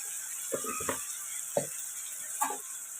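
Tomato puree cooking with ginger-garlic paste in a pan for a dry fish curry, a faint steady sizzle with a few short scraping stirs of a spoon against the pan.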